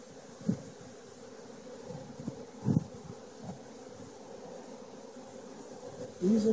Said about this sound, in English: Lots of bees, lots of nectar.